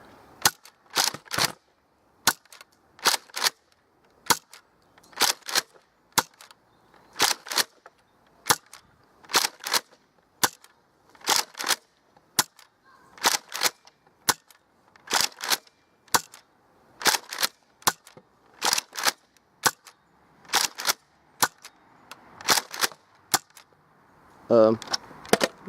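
A Nerf Rampage blaster fires foam darts in slamfire mode, a rapid run of sharp snapping shots in uneven bursts, loud and close, with a brief clatter at the end.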